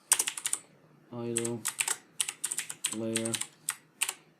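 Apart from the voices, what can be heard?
typing on a computer keyboard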